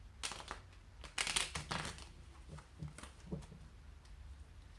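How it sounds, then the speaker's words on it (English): Tarot cards are shuffled close up in soft, papery riffles and quick flicking bursts, with a quieter tapping and handling noise between them. "I'll actually shuffle it one more time."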